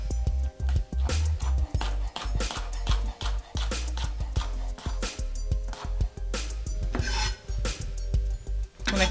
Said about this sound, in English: We'll go ahead and chop our serrano pepper up.